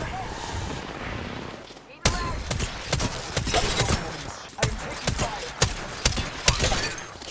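In a shooter video game, an enemy's shield cracks among a dense flurry of sharp gunfire bursts and shattering impacts, loud and close, with a voice talking over the action.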